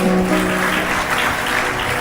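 Audience of mothers at a spiritual discourse breaks into sustained, dense applause, loud and steady throughout with no talking over it.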